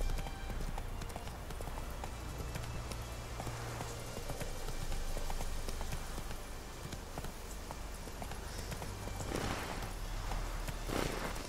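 Hoofbeats from Roach, Geralt's horse in The Witcher 3, clatter in a steady clip-clop beneath game ambience, moderately quiet, with a brief rain-like patter and a couple of louder bursts near the end.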